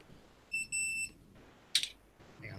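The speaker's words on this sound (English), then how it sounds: "Can you actually hear the beeps?" A multimeter beeping during a Routemaster bus model build: two short, close, high electronic tones in quick succession, followed by a sharp clunk and a soft rustle.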